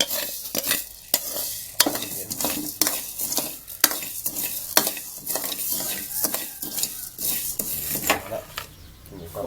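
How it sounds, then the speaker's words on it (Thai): Native chicken is stir-fried in a sizzling pan, with a utensil scraping and stirring in quick, repeated strokes over a steady hiss of frying. No one speaks. "จะมาเฮ็ดคั่วไก่ คั่วไก่เมือง"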